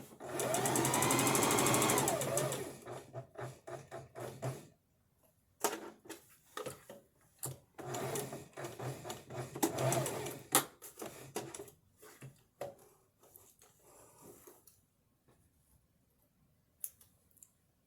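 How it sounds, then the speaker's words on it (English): A sewing machine stitches in short bursts, with a steady mechanical whirr at the start and again midway, plus clicks and taps between runs as the fabric is repositioned. "so then I don't need to slow the machine down and bring it to the corner"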